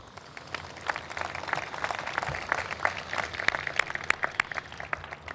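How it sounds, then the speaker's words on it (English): A small round of applause for a man standing at a waterfront development project meeting, with steady, moderate clapping from a seated audience that grows slightly louder toward the end. "give a small round of applause to the man to the right of me"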